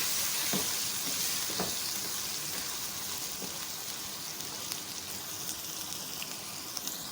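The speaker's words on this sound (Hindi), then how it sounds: "मसाले को भूनें अच्छी तरह से।" Masala with turmeric powder frying in a pan for aloo pulao, a steady close sizzle with faint stirring scrapes, no voices.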